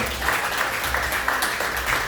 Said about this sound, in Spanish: Vamos a dar un aplauso al Señor eterno